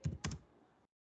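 Rapid keystrokes on a computer keyboard while code is typed, a couple of quick clustered clicks near the start and then a faint trailing patter, close and quiet.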